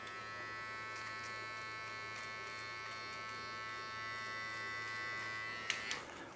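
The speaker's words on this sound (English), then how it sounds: "So I keep shaving a little bit." A steady electric buzz from a shaver or clippers running continuously close by, cutting hair, with a couple of faint clicks near the end and no talk.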